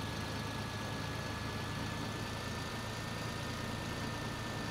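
A high-horsepower tractor engine in a farming video game runs in a steady, unbroken drone with a faint whine, no talk.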